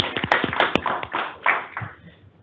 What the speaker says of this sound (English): We'll give him a quick round of applause virtually